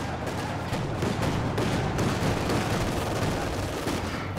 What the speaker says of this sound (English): It's a bit of machine gun fire there.